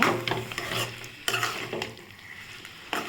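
Mango pachadi mixture sautéing with chili powder in a pan, a steady sizzle broken by several sharp utensil scrapes and clinks as it is stirred, close and moderately loud with no talking.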